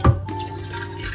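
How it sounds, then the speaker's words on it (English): Water poured from a pot into a portable apartment washing machine, starting with a brief splash and then settling into a steady, close pouring trickle with no speech. "I think I'm gonna throw in probably another half, like a quarter to a half"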